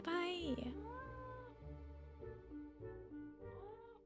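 A cat meows in the Nancy Drew game Mystery of the Seven Keys, with one clear drawn-out meow at the start and softer tonal calls after it, mixed with a speaking voice.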